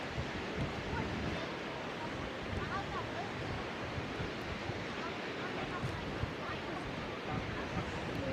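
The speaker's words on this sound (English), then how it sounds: "And the wind is impressive, so probably blowing a gale on this thing." Strong wind buffets the microphone on Blackpool's North Pier, a steady broadband roar with surf-like rushing that persists throughout, loud and constant with slight gusty swells.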